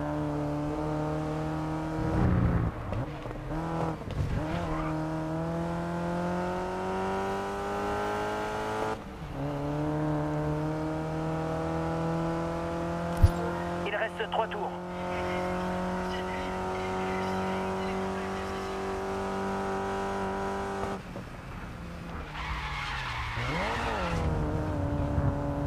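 In the racing game GRID Legends, an open wheel race car howls through its gears with rising and falling engine pitch, squealing tires as it skids through corners, and a sharp impact midway. A voice talks over parts of it.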